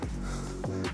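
Heavy, rhythmic panting of a hiker climbing uphill on a mountain trail near Dubrovnik, Croatia, with a few sharp, close breaths and snorts at the microphone.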